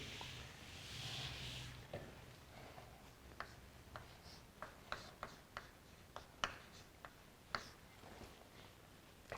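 Quiet writing on a board while a Portuguese math lesson sets out the Taylor polynomial formula, with a soft rubbing swipe at the start, then a steady series of sharp little taps and scratches from chalk or marker, close and alone.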